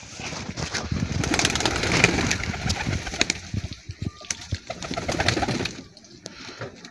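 Pigeons in a netted coop coo and shuffle as they drink water laced with medicine, soft bird calls and occasional wing flaps coming close and steady, fading quieter toward the end.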